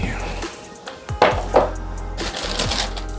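An Air Jordan 1 High OG Shadow 2.0 sneaker box being opened, with a few sharp cardboard knocks and rustling paper, close and moderately loud over a low hum.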